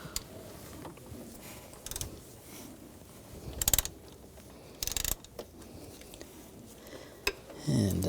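A 13mm socket on a ratchet works the tensioner bolts loose on a 2000-2006 BMW X5 3.0L inline-six, with scattered clicks and metallic clatter and a few louder bursts between quiet gaps.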